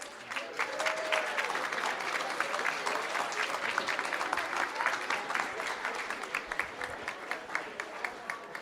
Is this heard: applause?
yes